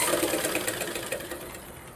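A sewing machine stitches over the lining of a blouse, a close, continuous mechanical whir with fine rapid ticking that eases slightly toward the end, with no voices.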